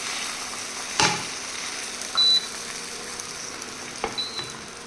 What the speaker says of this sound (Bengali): প্যান গরম হয়ে যাওয়ার পরে ওতে আমরা ডিমটা দিয়ে দিলাম।